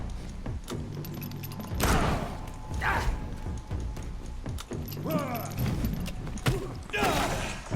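A weapon is reloaded slowly in the vampire action game Vampyr: scattered metallic clicks, clinks and clattering mechanism sounds with a few heavier thuds, spread over several seconds.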